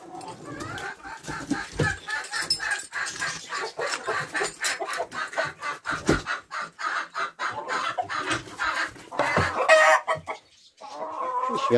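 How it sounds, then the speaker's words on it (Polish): Hens of a mixed flock that lay green eggs cluck and squawk inside a chicken coop, a dense run of close, busy calls with sharp peaks, a rooster among them, and no talk. "Taką sobie zrobiłem mieszankę kurek, które niosą mi zielone jajka."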